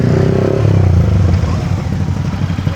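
Motorcycles on a group bike trip rev and rumble nearby, a loud low engine drone with a throttle burst at first, then idling with some clatter.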